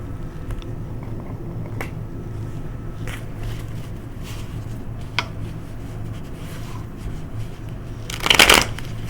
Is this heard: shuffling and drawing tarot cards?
yes